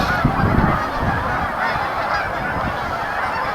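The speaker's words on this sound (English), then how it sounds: "Looks like just geese out at the rapids." Geese honk continuously at river rapids, a dense overlapping chorus from a large flock against steady rushing water.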